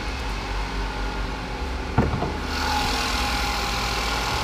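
The 2.5-liter four-cylinder engine of a 2014 Chevy Malibu idles with a smooth, even hum, broken by a brief click and then a slightly louder, airier drone.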